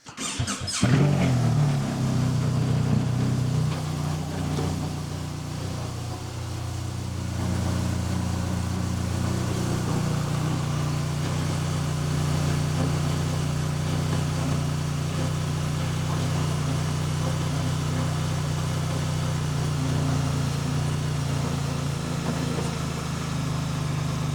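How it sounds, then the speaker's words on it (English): Motorcycle fitted with Lone Rider MotoLights, its engine switched on: a brief starter burst, then a steady rumbling idle that holds loud and close for over twenty seconds, alone. "We're going to switch the engine on"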